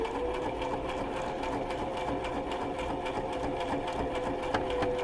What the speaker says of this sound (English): I'll just go ahead and sew the rest of that seam.